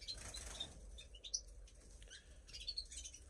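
Goldfinches in an aviary give faint, quick flutters of wingbeats mixed with scattered high chirps and tweets, heard at a distance and low in level.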